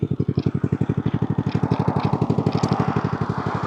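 A Boom Vader 125, a Honda Grom clone motorcycle, idles close by with a fast, even single-cylinder putter, the steady pulsing beat running throughout without any voices.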